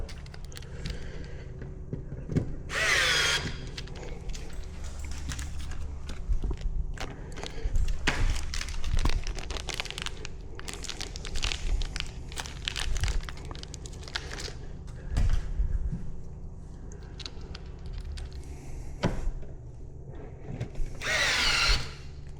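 Power drill driving screws into a TV wall-mount back box while installing a 65-inch Samsung The Frame TV: several bursts of drill whine with thumps and handling noise in between, close and fairly loud.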